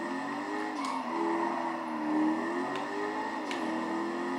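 A car in the video game GTA 5 driving very fast, a sustained high engine whine that rises and falls in pitch, with a few sharp ticks and a steady synthetic roar throughout.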